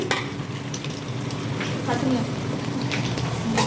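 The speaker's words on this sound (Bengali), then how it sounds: "এখানে ডিমের ভুজিয়া হচ্ছে আর এদিকে আমি পেঁয়াজ আলু ভেজে নিয়েছি" Beaten eggs fry in a pan for egg bhujia, making a continuous crackling sizzle with light spatter and faint taps throughout.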